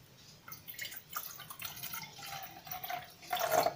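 Water is poured into a pot for the Russian honey-spice drink sbiten, a close, uneven splashing trickle that swells toward the end.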